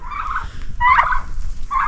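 Chickens and turkeys in a coop bedded with fresh wood chips, giving loud, close gobbling calls in two or three bursts over a steady low rustling.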